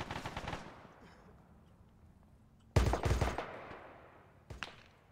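Video game gunfire: a burst of rapid automatic shots near the start, then after a lull a loud close volley of bursts, followed by another sharp shot near the end.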